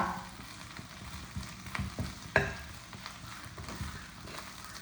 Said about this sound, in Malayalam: മുരിഞ്ഞൊക്കെ വേഗം വറവാകും. ഒരുപാട് കരിക്കാനൊന്നും പാടില്ല.